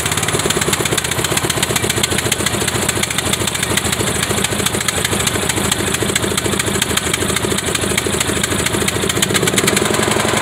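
A Craftsman small engine with a carburetor choke runs steadily up close, a loud, even, rapid putter holding at a fast idle throughout with no voices.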